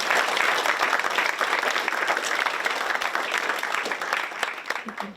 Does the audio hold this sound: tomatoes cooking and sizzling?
no